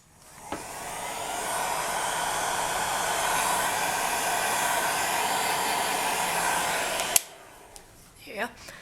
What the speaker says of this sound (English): Pop your heat gun on your hottest setting and lowest wind speed.